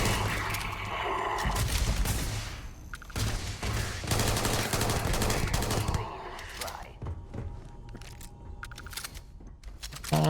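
Rapid explosive gunfire from a weapon in the Starfield video game, dense bursts of shots and blasts crowding together, loud and continuous for several seconds before thinning into scattered hits.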